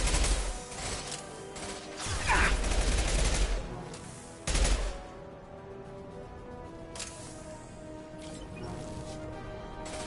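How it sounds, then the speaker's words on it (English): The Impact Shot ability in Mass Effect 2 blasts loudly amid heavy combat gunfire, with two strong booming impacts and a rumbling tail fading under continuing battle noise. "Firing an impact shot!"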